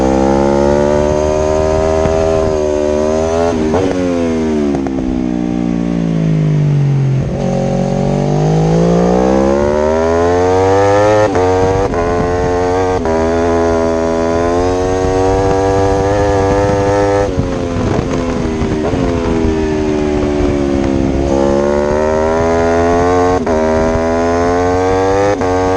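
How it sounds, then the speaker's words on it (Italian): A racing motorcycle screams around the Autodrom Most circuit, its engine rising and falling through gear changes with steady high-revving whine, loud and close throughout with no talk. "Qua la sento la moto,"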